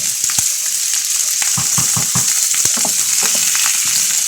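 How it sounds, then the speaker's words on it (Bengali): Washed potatoes frying in oil in a pan, a dense steady sizzle with rhythmic scraping stirs and clicks of the utensil running throughout, close and loud, no voices. "আলু ধুয়ে নিয়েছি তেল দিয়ে একটু ভেজে নেব"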